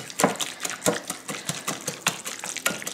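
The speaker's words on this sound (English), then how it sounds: "I'm just going to take my wire whisk and just kind of loosen it up" A wire whisk scraping and clattering through canned cranberry sauce in a bowl, loosening the jellied sauce into a rhythmic series of quick, wet metallic strokes, close and steady with no talking.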